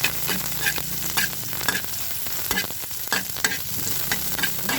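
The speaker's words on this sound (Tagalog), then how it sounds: "brown na yung ating bawang, lagay natin yung ating sibuyas" Onions frying and being stirred in a pan with browned garlic for a corned beef and baguio beans dish: a steady close sizzle with repeated scraping stir strokes, no talking.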